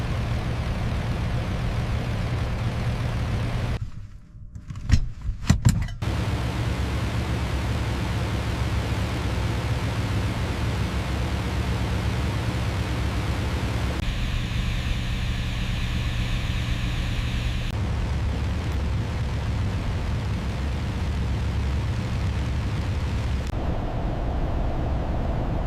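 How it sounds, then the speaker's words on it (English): WWII dive bombers launching from an aircraft carrier deck during the June 1942 Battle of Midway. A loud, steady engine roar fills the whole stretch, briefly dipping and sputtering near the start before the drone resumes. "On June 4, 1942, 37 dive bombers launched from her deck."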